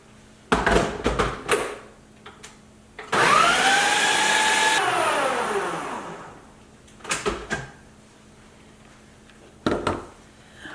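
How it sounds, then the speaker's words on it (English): A food processor blends raw vegan spaghetti sauce, one loud whirring run of about two seconds that winds down, with clattering handling noises before and after. "now I'm going to add all of this to the food processor and blend it together."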